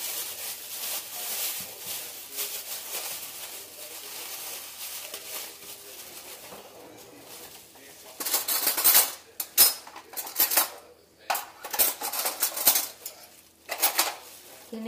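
Metal spoon clinking and plastic containers rustling as a child's school lunch of halved kiwi is packed, a soft scraping start giving way to sharp, irregular clatters and knocks close by.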